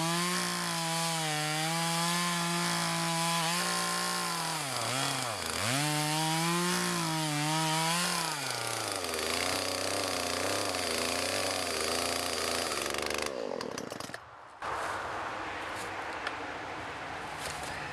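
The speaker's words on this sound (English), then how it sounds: "So I recommend getting a chainsaw," An inexpensive chainsaw cuts through a fallen tree on a wilderness trail, its engine loud and close, revving up and down in pitch before bogging into the wood and then sputtering near the end.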